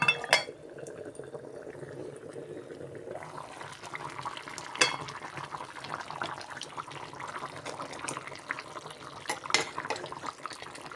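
Vegetable curry is stirred in a cooking pot with soft scraping and wet, bubbling sizzles, occasional utensil clinks against the pot sounding close and fairly quiet.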